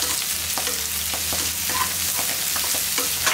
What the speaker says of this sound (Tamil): இதெல்லாமே நல்லா வதக்கியாச்சு.